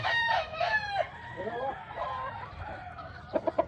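A gamefarm rooster crows up close in one long, wavering call, followed by a few short clucks at the end.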